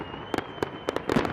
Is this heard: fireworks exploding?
yes